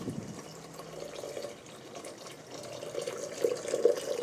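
Warm jaggery syrup poured in a thin trickle into cooked rice and split lentils for Pongal, with a soft continuous liquid splash that swells toward the end.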